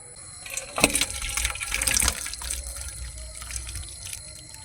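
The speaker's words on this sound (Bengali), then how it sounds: "এখন আমি তরকারিটাকে অন্য গামলার মধ্যে ঢেলে নেব" Soybean curry cooked with yogurt is poured from the cooking pot into another bowl, giving a wet gushing, slopping pour with scraping knocks at the start, then a softer trickling tail; close and unaccompanied by speech.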